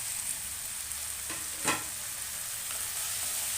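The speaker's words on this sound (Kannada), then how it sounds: "ಈಗ ಒಂಚೂರು ಹಸಿ ವಾಸನೆ ಎಲ್ಲ ಹೋಗಂಗೆ ಇದೊಂದು ಫ್ರೈ ಮಾಡ್ಕೊಳ್ಳೋಣ" Ingredients for Bombay sagu, including chopped tomatoes, sizzle and fry in a pan, a soft continuous hiss with a brief louder clatter of stirring partway through.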